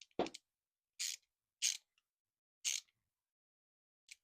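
A part on a Honda GX120/GX160 carburetor being tightened: a few short, crisp metallic clicks spaced unevenly, close and quiet, with no talking.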